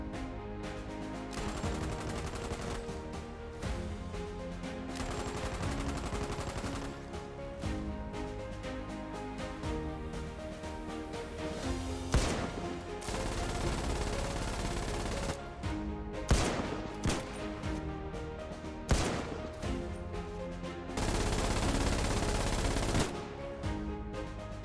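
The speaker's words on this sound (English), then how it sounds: "it's a machine gun" Machine gun fire in a military shooter game, with long rattling bursts and scattered single shots coming in uneven waves, some loud and close, others more distant, over a steady background of battle noise.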